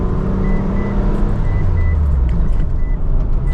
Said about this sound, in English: see this loud car?